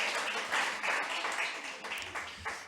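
Church congregation clapping during a Sunday sermon, with a moderate spread of hand claps forming a continuous patter at fairly low volume.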